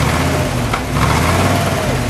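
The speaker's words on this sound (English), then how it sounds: "Give it a rev." A 1956 Ford Thunderbird convertible's 312 V8, with side-exit exhaust, revved while parked, a loud, rough engine roar with a slight swell partway through, heard close and without talk.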